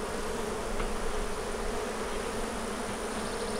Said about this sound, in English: Now these bees may get upset with all the smoke.